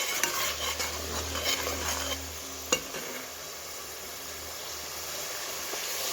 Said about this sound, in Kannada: ಅದನ್ನು ಚೆನ್ನಾಗಿ ಫ್ರೈ ಆಗಿಬಿಟ್ಟು ನೆಕ್ಸ್ಟು ಈರುಳ್ಳಿ ಹಾಕ್ತಿದ್ದೀನಿ